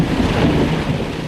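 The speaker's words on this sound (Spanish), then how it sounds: "Todo el mundo hablaba de la violentísima tormenta de rayos y truenos que hubo esa noche." Thunder from a violent thunderstorm at night, a loud, continuous low rumble that holds steady without voices.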